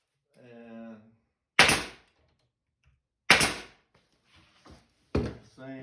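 A pneumatic nail gun fires through the unfinished side of a ready-to-assemble cabinet, three sharp loud bangs spaced about two seconds apart, with a short bit of speech before the first.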